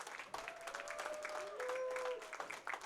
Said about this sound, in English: let's please give a huge round of applause for our 4th place finisher, Miss Alexis Runk.